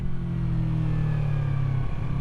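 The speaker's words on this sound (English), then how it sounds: "Downshift and get the rear tire to chirp." A Yamaha MT03 motorcycle engine, with no slipper clutch, roars steadily at high revs under a downshift, the pitch holding then dropping near the end, loud and close with no voices.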